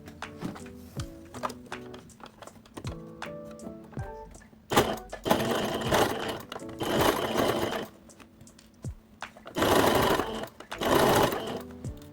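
A sewing machine stitches a fabric teddy bear. Sparse clicks and short ticks come first, then loud sustained runs of rapid mechanical stitching close by, with no voices.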